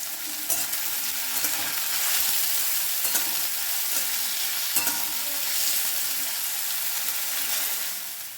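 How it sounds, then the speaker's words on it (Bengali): Skin-on potato pieces with a little turmeric sizzle and crackle in hot oil, a steady close frying hiss with occasional stirring scrapes and no voices. "আলুটা আগে আমি ভেজে নেব। আলুটা আমি তেলের ওপর দিয়ে দিলাম।"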